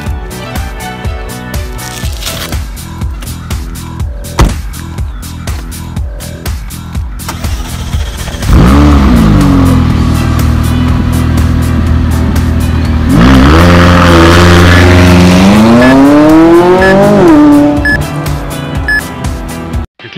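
A McLaren 570 GT sports car runs loud and close, first with short pulsing engine bursts, then a sustained high rev that climbs, dips and rises again as it accelerates hard.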